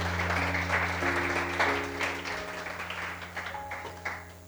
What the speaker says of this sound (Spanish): Dale ese fuerte aplauso al Señor Jesús